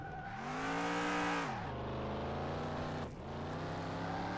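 A game car from Car Mechanic Simulator 21 spins donuts on dirt, its engine revving loud and steady, rising in pitch, then dropping as the car slides, with tire noise throughout.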